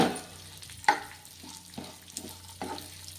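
Vermicelli being fried and stirred in a pan for sheer khurma, a sweet Ramadan festival dish: a soft, steady sizzle with scraping stir strokes and a few sharper clinks, fairly quiet and close, with no talking.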